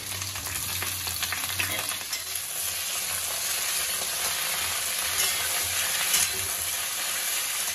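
Eggplant, yardlong beans and tomato fry in hot oil, giving a steady, dense sizzle that holds at even loudness throughout, with a few faint stirring scrapes and no voices.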